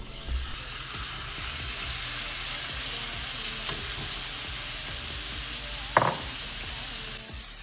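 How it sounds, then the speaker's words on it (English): Chicken pieces frying in a small amount of oil in a pan, giving a continuous close hiss of sizzling with scattered crackles and one sharp clink near the end. "I cooked the chicken in just a little bit of oil."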